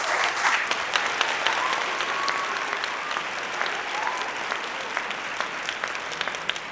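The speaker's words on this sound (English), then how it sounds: "Let's give ourselves a round of applause." Audience at a regional launch event applauds steadily for several seconds, a loud, continuous crowd of clapping with a few faint voices underneath.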